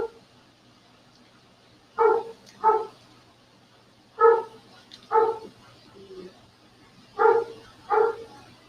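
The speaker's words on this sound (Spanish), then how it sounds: "estaba escuchando los perros" Several dogs bark in paired bursts, three pairs of sharp, fairly close barks spaced by quiet gaps over a low steady background hum.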